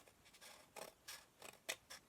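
Scissors fussy-cut paper for a handmade card in a run of soft, close snips and slides, about six separate cuts spaced irregularly, faint and quiet with no voices.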